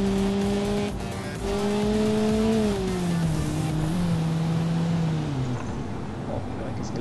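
A car in the BeamNG Drive driving game accelerates, its engine tone climbing through gears, then dropping and rising again, with tire noise and a player's voice talking over it.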